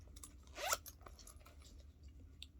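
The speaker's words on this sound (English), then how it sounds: "it has a zipper pull right there. A zipper compartment." One quick pull of the zipper on a leather handbag, close and crisp, heard alone against a quiet background.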